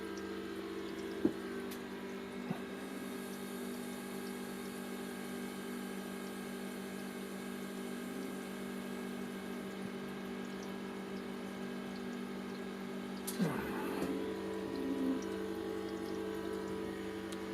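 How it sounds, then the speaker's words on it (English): A replacement air-conditioning compressor running quietly, a steady low hum with a constant tonal drone, a couple of faint clicks and a short clatter partway through. "Good thing about this compressor is it's a lot quieter."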